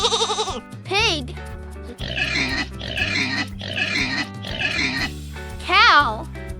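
A pig oinks and grunts in a run of four or five short, loud bursts, with a voice at the start and end and a soft music bed underneath.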